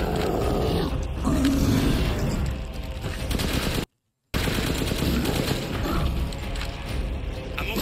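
Dense gunfire fills a fight in the video game Resident Evil Village, a loud, sustained rattle of rapid shots with a brief silent gap midway before the shooting resumes.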